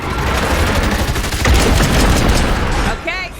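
Dense overlapping gunfire fills a zombie-survival fight in State of Decay 2, a loud continuous volley of shots that fades near the end as a voice speaks briefly.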